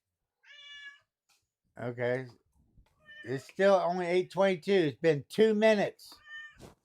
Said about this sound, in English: Yeah, that's our cat.